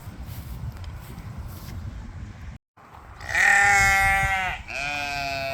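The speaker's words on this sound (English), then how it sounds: "You can see the sheep are ready for their morning kibble." Sheep bleat loudly and close by, a long wavering cry with a second shorter bleat after it, over a low rumbling background as the flock waits for morning kibble on a farm.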